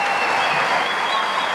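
Crowd at the end of a boxing fight giving an ovation, dense continuous clapping filling the whole short moment, loud and close.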